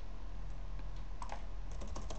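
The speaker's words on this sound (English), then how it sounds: "Now by hitting the tab on a keyboard" A few key presses, including the tab key, on a computer keyboard, heard as soft, close clicks over a steady low background hum with no talking.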